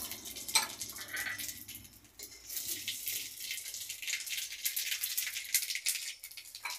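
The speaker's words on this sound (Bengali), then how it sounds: "এবার দিয়ে দিচ্ছি শুকনো লঙ্কা ফোড়ন প্রথমে, তারপরে এতে আছে হাফ চামচ পাঁচ ফোড়ন আর হাফ চামচ সরষে" Dried chili, panch phoron and mustard seeds tempering in hot oil give a steady crackling, popping sizzle with faint rattling, close and continuous with no talk.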